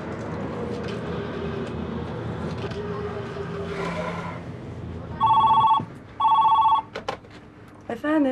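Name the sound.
telephone ringing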